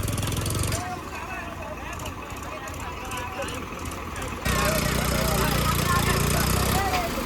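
A tractor engine chugs steadily during offroading with four tractors, loud and close throughout, dropping briefly quieter in the middle, while people talk over it.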